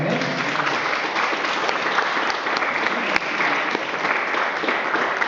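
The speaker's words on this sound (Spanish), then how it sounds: "¿Cuántos le dan un aplauso al Señor?" A church congregation applauds during a sermon, steady dense clapping from many hands sustained evenly throughout at moderate loudness.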